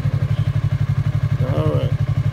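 A Yamaha R3 motorcycle engine throbs steadily and loudly up close as it rides, with a short vocal sound breaking in near the end.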